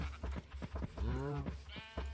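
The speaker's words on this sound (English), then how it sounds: "Oh, cows." Minecraft cows low in a couple of short, drawn-out calls over a faint game background, with a soft click and thud between them.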